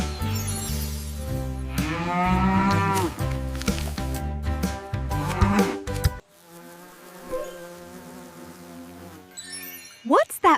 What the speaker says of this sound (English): What's that buzzing sound? It's a bee.